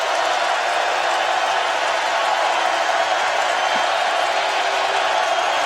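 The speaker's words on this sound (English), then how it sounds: "they got the crowd into it" A huge college football stadium crowd at a Tennessee versus Bowling Green game roars in a steady, loud, continuous wash of cheering and noise, with no pause across the moment.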